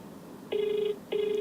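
A telephone rings twice on a live call during a folk singer's interview, each steady electronic ring tone lasting about half a second with a short gap between, clear and fairly close over quiet background.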